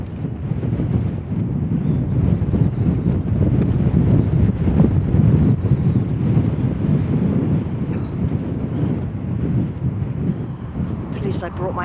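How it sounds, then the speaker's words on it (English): Strong wind buffets the microphone on an exposed hilltop at Pule Hill on Marsden Moor, a loud, continuous roar with gusty surges lasting throughout. "Getting buffeted by the wind."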